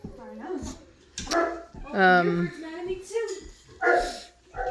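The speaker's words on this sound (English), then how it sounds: "I do think that the dogs are barking at her, and that's probably where a bunch of the racket is from." Cane Corso dogs bark and yip loudly nearby in a chaotic household with four-week-old puppies, several sharp overlapping barks and whimpers mixed with a person talking.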